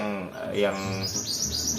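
An oriental white-eye chirps in quick high twittering bursts, close and clear, with a low voice murmuring underneath.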